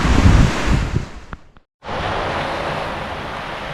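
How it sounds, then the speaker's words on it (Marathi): Sea waves and wind on Ambolgad beach on the Konkan coast in the morning, a loud wash of surf with wind buffeting the microphone, briefly dropping to silence before the steady roar resumes. "एक अतिशय आल्हाददायक पॉझिटिव्ह अशी सकाळ आंबोळगडच्या समुद्र किनाऱ्यावरची"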